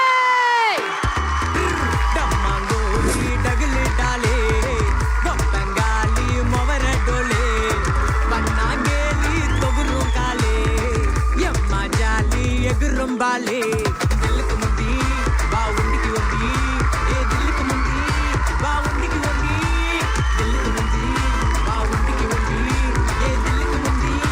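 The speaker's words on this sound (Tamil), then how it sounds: "ஒரு பலத்த கைத்தட்டலோட let's give it up for team lower பந்தே" Loud studio audience cheering and whooping on a Tamil music game show as the Lubber Pandhu movie team is welcomed, a dense sustained roar with music underneath lasting throughout.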